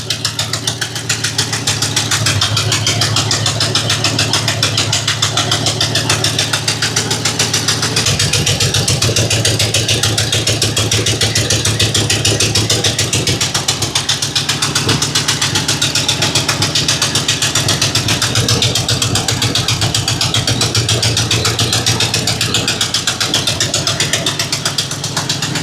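A revived Ford 390 V8 with a bad exhaust leak runs and idles steadily, loud and close, with a rough knocking rumble throughout and no talk.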